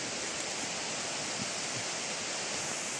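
A river on the Appalachian Trail rushes in a dense, even roar, loud and close, with no break or voices over it.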